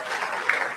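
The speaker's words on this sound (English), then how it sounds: "So clap for yourself." Audience applauding at a student orientation program, a brief, continuous wash of many hands clapping at moderate volume, with no clear voices over it.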